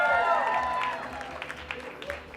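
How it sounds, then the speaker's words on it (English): An audience at a sangeet breaks into applause, a fading patter of claps and light cheering that tapers off over a couple of seconds. "Let's get a round of applause for Angeli."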